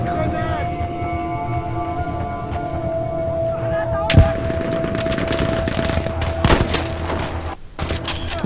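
Gunfire rattles in a Battlefield V campaign mission, with sharp close bursts and shots over a busy din of game effects and a sustained tone, loud throughout.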